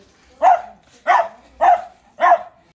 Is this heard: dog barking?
yes